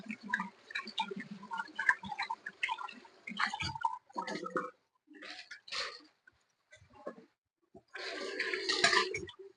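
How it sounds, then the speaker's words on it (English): Hands are washed under a running kitchen tap, with irregular bursts of splashing water broken by short quiet gaps, then a longer, louder rush of water near the end. "about to wash her hands"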